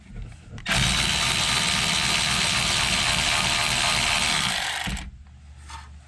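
A power tool spins out the top glide pin bolt of a brake caliper with a 14mm socket on an 06 Altima, a loud, steady whirring buzz that holds for about four seconds and then cuts off, close up.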